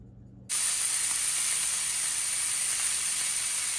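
Steak sears in a hot pan with olive oil and pink salt, a loud, steady broadband sizzle that bursts in abruptly after a brief quiet moment and holds evenly close to the microphone.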